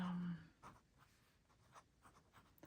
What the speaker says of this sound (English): I have not yet messed with this nib, which is, as you can hear, still slightly scratchy